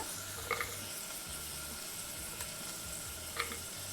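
Steady sizzling of green chillies, ginger and garlic frying in a pan for mint rice, with a few faint clinks of a utensil stirring.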